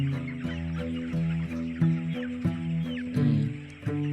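Dense, close chorus of chickens clucking and chirping in a poultry farm shed, with rhythmic repeated calls overlapping continuously and no talking.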